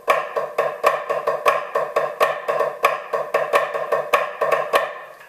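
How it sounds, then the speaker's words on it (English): A snare drum plays a dense run of flam accents with the underlying rhythm gone uneven: close, loud, ringing strokes that rush and drag, so the spacing between hits turns jagged. "the rhythm underneath gets messed up and it sounds like this"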